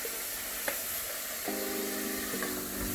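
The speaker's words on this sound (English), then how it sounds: "So you have to keep adding the bisque when it reduces and stirring for around 20 minutes." Risotto being stirred in a pan as fish bisque stock is added, with a steady low sizzle and simmer throughout, a soft tonal hum entering midway, and a faint clink or two of a spoon against the pan.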